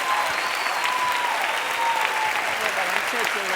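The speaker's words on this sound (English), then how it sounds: "Give her a round of applause." An audience bursts into a sustained round of applause, dense and even for the whole stretch, with a few voices calling out over the clapping.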